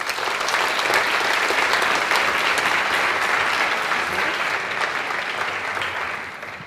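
Sustained applause from a convocation audience, a dense, steady wash of many hands clapping that fills the hall for several seconds before starting to taper off at the end.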